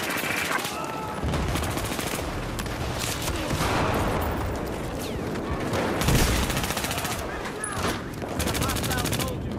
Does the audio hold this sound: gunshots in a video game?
yes